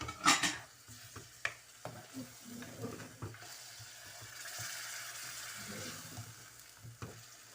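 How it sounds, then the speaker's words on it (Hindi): Chicken cooks over high heat in a pan, crackling and sizzling up close while a utensil clinks and scrapes against the metal in quick irregular strokes that fade into a steady fry. "थोड़ी तेज़ आंच में मैं कुक करती हूँ इसे जल्दी से।"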